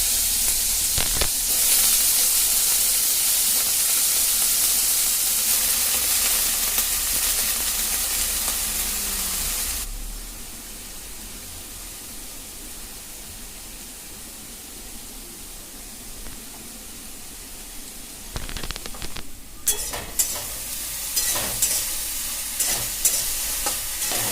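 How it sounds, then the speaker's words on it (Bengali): Loud hissing of eggplant slices frying in oil for several seconds, then it quiets to a softer sizzle before louder crackles and stirring clatter return near the end. "বেগুনগুলোকে ছেড়ে দেব তাতে পরিমাণ মতন হলুদ লবণ দিয়ে ভালো করে লাল লাল করে ভেজে নেবো"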